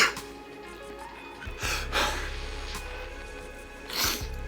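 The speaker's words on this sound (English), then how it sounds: "See, that's a real sneeze." A staged, acted sneeze: a sharp inhaled gasp, a breathy buildup, then a forceful expulsion, close to the mic, followed by another gasp.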